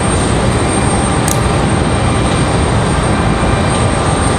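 A Republic Airways airliner on final approach at Raleigh Durham airport gives a loud, continuous broad roar of jet engines and rushing air, steady and close throughout with no talking.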